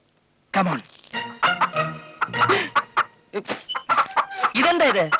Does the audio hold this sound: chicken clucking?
yes